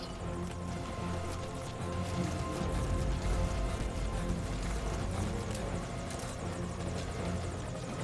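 A helicopter in a video game thrums steadily and loudly through the whole stretch, a dense rotor drone with no speech over it.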